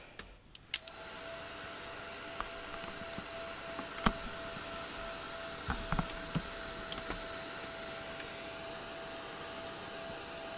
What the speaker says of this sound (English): I'm going to dry our embossing powder